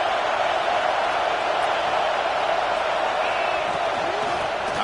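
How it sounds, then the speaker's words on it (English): Dense, steady roar of a packed stadium crowd at a USC versus Michigan football game, loud and continuous throughout with no breaks, filling the whole space. "listen to this crowd noise. This stadium is vibrating."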